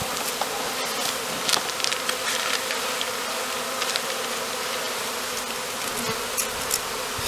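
Honeybees buzz in a steady, dense hum close by during a February varroa mite check, with occasional sharper clicks and handling noises over the continuous drone.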